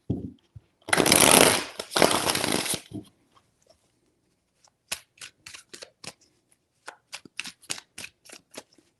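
A deck of tarot cards is riffled in one loud, close shuffling burst lasting a couple of seconds, followed by a run of light, separate taps and flicks as the cards are squared and laid down.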